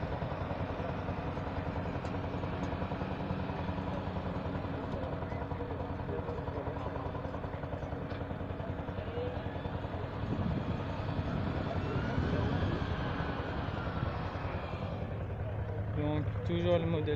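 An old tractor engine runs at a ploughing contest with vintage farm machinery in Eurre, France, holding a steady, rumbling low drone with a slight idle throb from start to finish, with voices nearby.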